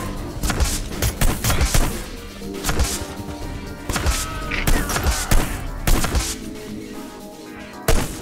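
Gunfire fills a round of the video game Hitman with dense, rapid bursts of shots. Loud, near volleys are broken by brief pauses, then a final sharp crack.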